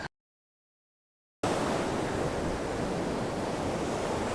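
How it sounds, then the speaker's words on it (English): Ocean surf breaking on a beach during fishing, a loud continuous wash of rushing noise that cuts in abruptly after a short silence, with no talk. "Waves are just constantly pulling that rod down."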